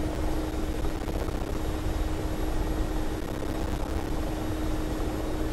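A helicopter in flight gives a steady, loud rotor and engine drone with a constant whine held evenly throughout, heard from inside or very near the aircraft.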